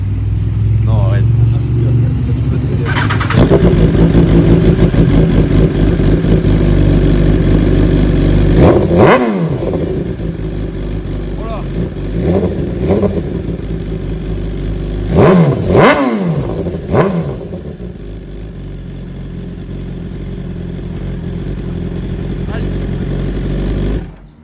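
BMW S1000RR sport bike fitted with a full Akrapovic exhaust starts for the first time, its engine running steadily with several sharp revs blipping up and falling back, loud and close, with people talking over it.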